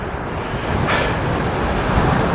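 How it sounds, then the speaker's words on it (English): Strong wind blows across an open airfield near Amsterdam Vijfhuizen while cycling, a steady loud rush and rumble buffeting the microphone, with a brief gust surge and no voices. "Wow, it's windy out here."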